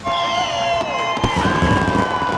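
Fireworks go off at a house reveal event, heard as sustained whistling, rising tones and a sharp crackling burst near the middle, loud and continuous over a noisy crowd background.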